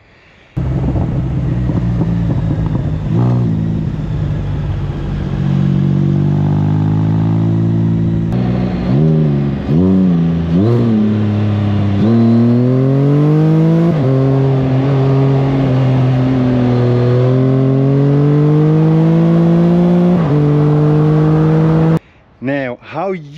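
A CanAm Spyder F3 with an RLS exhaust pipe revs repeatedly, its loud engine tone rising and falling in close, sustained bursts with a few sharp blips near the end.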